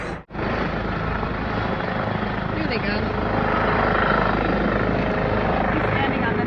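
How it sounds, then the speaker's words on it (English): A hovering helicopter produces a loud, steady rotor and engine drone that persists throughout, close by, with a person talking over it. "They're coming out of the helicopter."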